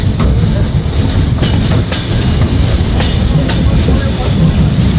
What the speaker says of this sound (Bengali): সুবিশাল কার্ভ নিয়ে ট্রেনটি কিন্তু ছেড়ে দিল তার পরবর্তী যাত্রাবিরতি স্টেশন চাটমহরের উদ্দেশ্যে